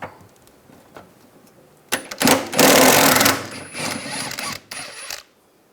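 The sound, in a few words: removing a bolt with a 14mm socket wrench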